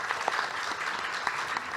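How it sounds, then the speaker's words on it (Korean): Audience applause at a Korean scientists and engineers congress, a steady wash of many hands clapping at moderate level with a few louder claps, no voices over it. "박수 주십시오"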